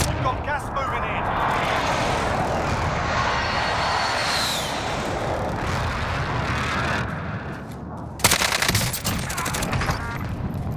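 Call of Duty gunfire rattles in dense, sustained volleys with booming blasts, loud and continuous throughout. People talk over it, and a sharper burst of shots cuts in near the end.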